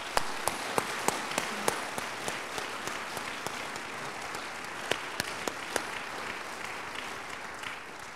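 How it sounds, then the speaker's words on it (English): An audience applauds steadily, with a few sharper individual claps standing out above the sustained clapping, heard at moderate distance. "let's give them all a round of applause"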